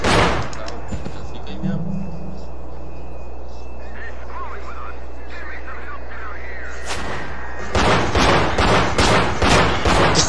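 Rapid bursts of gunfire erupt near the end, loud and crackling, after a stretch of low rumbling background with occasional thuds in the PS2 game Manhunt.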